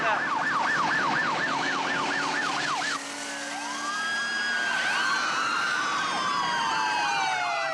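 Ambulance siren wailing loud and close during a car chase in a French action film, a fast warbling sweep at first, then shifting to slower wails with Doppler-like pitch bends as it moves, no talk over it.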